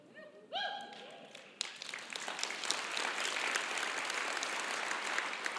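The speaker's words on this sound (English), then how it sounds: "That was the weakest hand clap I have." An audience claps at a motivational talk, starting with a brief vocal phrase, then a thin burst of applause that swells into steady, moderately loud clapping from many hands.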